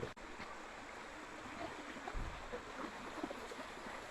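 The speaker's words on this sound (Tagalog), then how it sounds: "Ganda ng tunog ng ilog." A steady, quiet rush of flowing river water continues throughout, soft and even, with no voices.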